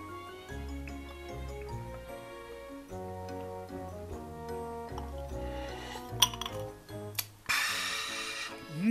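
Glasses clink together a couple of times in a toast with a fizzy drink during an evening of drinking at home, over steady background music, followed by a burst of hiss and fizz.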